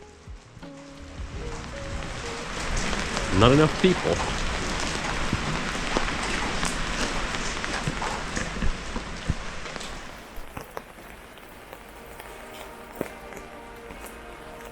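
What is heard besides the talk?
rain falling in a city alley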